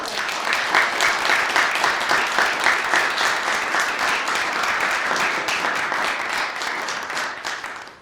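A school committee meeting audience applauds a group of students in a sustained, full round of clapping that stays steady and fairly loud before tapering off at the end.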